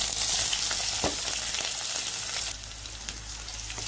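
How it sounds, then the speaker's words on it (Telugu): Cumin, mustard seeds and green chillies fry in hot oil for a bottle gourd curry, giving a steady close sizzle with faint crackles and a light stir partway through, no talking. "జీలకర్ర, ఆవాలు. కొంచెం ఇవి వేగిన తర్వాత పచ్చిమిర్చి వేసేసుకోండి."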